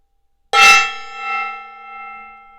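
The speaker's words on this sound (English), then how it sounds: "so here's a gong" A single strike on a gong gives a sharp metallic clang followed by a long shimmering ring that swells and fades in slow waves, close and loud, with no talking.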